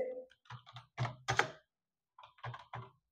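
Typing on a computer keyboard while entering an Excel formula: quiet, close clusters of key clicks in short irregular bursts separated by brief pauses.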